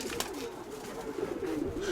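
Domestic pigeon, one of a pair of brothers kept by a pigeon fancier, cooing close by in a rolling, repeated call over a steady outdoor background hiss on a snowy winter day.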